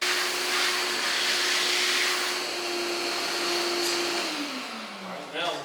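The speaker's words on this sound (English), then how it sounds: "I'm gonna get my vacuum cleaner first" A vacuum cleaner runs loudly and continuously, sucking dirt out of a hole for a security gate, with a steady motor whine that drops in pitch near the end as a small rattle is drawn in.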